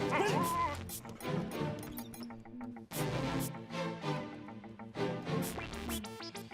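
A dog barks and whimpers in an indoor comedy film scene, its yelps mixed under loud music and shouting voices, with an abrupt crash-like break partway through.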